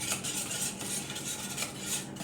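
A utensil scrapes and clinks against a pan while onions are stirred into a tater tot breakfast casserole, a continuous close scraping with soft rhythmic knocks and no talking.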